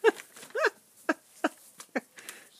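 A dog with its head stuck in a bag gives a series of short distressed whimpers and yelps, six or so sharp cries spaced about half a second apart, close and fairly loud against a quiet background.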